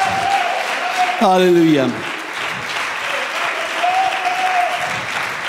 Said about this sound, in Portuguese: Let's give Jesus a great hand.